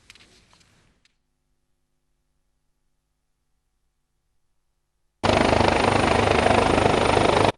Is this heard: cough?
no